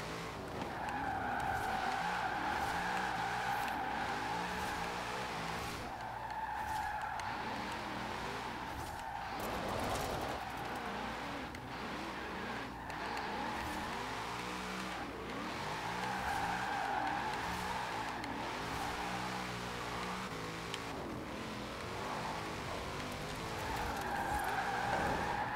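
Tires on a Formula Drift car in Forza Horizon 4 squeal and skid almost nonstop during a street drift, the screech riding over a steady revving engine with no talking.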